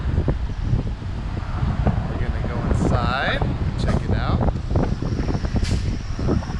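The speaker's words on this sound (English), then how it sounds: "It's a little windy, I'm sorry for that." Gusty wind buffets the microphone with low rumbling noise on a foggy day outside a dinosaur store and museum, while a person speaks briefly over it.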